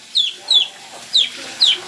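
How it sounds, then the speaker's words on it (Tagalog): A chicken clucks in a rural countryside kitchen setting, four short, sharp calls spaced in a steady rhythm, fairly close and loud, with no talking over them. "May manok sa loob yan."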